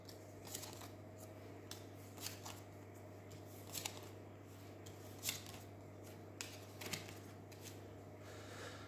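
Soft, quiet sounds of drawing playing cards from a deck during a card game: a series of brief papery flicks and snaps at irregular intervals over a low steady hum, with no talking.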